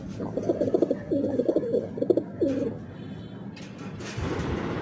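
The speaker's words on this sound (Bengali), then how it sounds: "আমি একটা খাঁচার মধ্যে কবুতরগুলো দিয়ে দিয়ে দেখতেছি" Pigeons coo in a cage in a loft, a close run of throaty rolling coos in the first half, then quieter rustling and a soft background hum.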